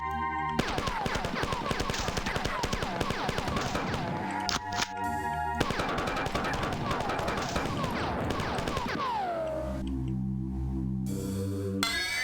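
Rapid video game gunfire rattles almost nonstop in dense automatic bursts, with a short break midway and a fading electronic tone near the end.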